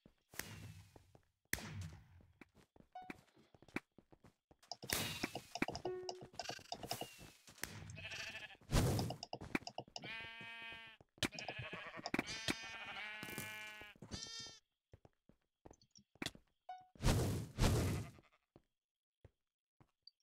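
Sheep bleat repeatedly in a Minecraft arcade minigame, a series of clear, nearby wavering calls from about 8 to 14 seconds amid clicks and game noises, with brief loud bursts near the start and end.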